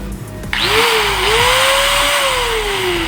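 An Ingco 750 watt angle grinder is switched on and spins up to a loud, steady, high-pitched whine that rises slightly in pitch and then holds. The motor drones on close by, and no one speaks.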